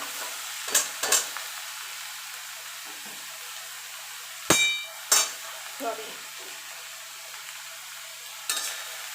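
Steamed taro leaves go into a pan of fried onion, green chili and garlic, a soft low sizzle punctuated by a few sharp spoon clacks and stirring knocks, close by and otherwise quiet.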